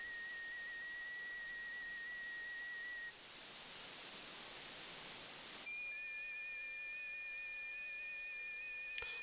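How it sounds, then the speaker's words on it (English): Thin, steady whistling FT8 digital radio signals sit over a hiss of radio static, shifting pitch slightly as the signals change partway through. "So the kind of whistling sounds, the drifting, that's part of the modulation"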